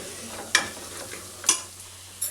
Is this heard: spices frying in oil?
yes